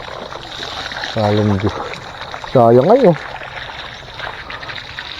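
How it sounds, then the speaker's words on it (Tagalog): Strong rushing water in Balatan, Camarines Sur makes a constant broadband roar, with someone talking loudly over it in two short bursts. "Ang lakas po ng tubig."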